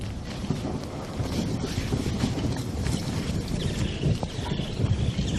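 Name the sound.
thunderstorm on the African plains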